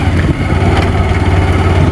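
A motorcycle engine idles steadily and loudly throughout on an off-road ride near Shahpur Gudda, a continuous low rumble with no break and no talk.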